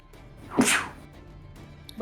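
A single sharp sneeze bursts out close and loud amid quiet room tone during an online tabletop role-playing session.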